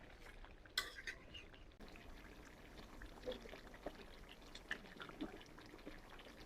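Hot water poured into frying chicken curry in a pan, a quiet pour with soft splashes and a few clinks of the pot, all fairly faint.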